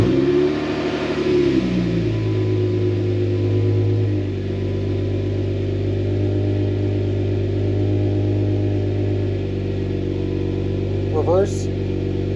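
A Jeep Wrangler engine starts with a short cranking burst, then settles into a loud, steady idle with mild rises in revs, continuing close and unbroken to the end.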